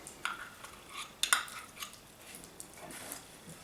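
A utensil mixes pre-cooked onions into funeral potatoes at a camp cooking setup, making faint, scattered scrapes and clinks that sound quiet and close.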